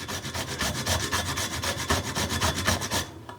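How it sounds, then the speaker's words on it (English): A whole nutmeg is grated on a Deiss zester in long, rapid strokes, giving close, rhythmic rasping scrapes about eight per second that stop abruptly at the end, with no speech. "it's still grating up the nutmeg quite easily"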